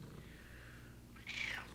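Soft low purring from a pet cat near the mic, with a brief brighter sound near the end that may be a short meow or squeak; no voices.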